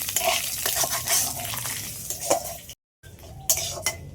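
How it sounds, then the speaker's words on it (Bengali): Dry chilli, bay leaf and panch phoron sizzle in hot oil in a kadai, a close, hissing crackle broken by stirring clinks and scrapes of a utensil against the pan, with a brief dropout partway through. "কড়ার মধ্যে হালকা করে তেল দিয়েছি, এই তেলের মধ্যে ফোড়নে দিয়ে দিচ্ছি শুকনো লঙ্কা একটা কেটে নিয়েছি"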